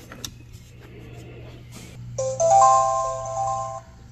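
A Reolink Argus Track security camera powers on, giving a short electronic startup tone of a few bright rising notes after two seconds of quiet room hum.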